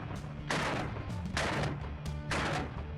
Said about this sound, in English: the recoil's not bad. Hip firing it.